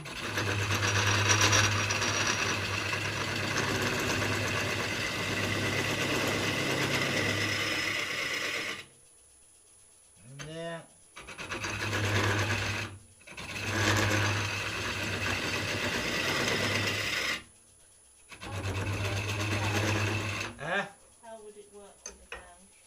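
Wood hollowed on a lathe with a HollowPro tool gives a steady, close whirring and grinding drone. It runs in several long bursts broken by short quiet pauses.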